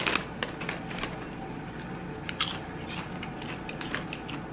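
A spicy corn chip is bitten and chewed up close, giving several crisp, sharp crunches spread unevenly over a few seconds with no talking.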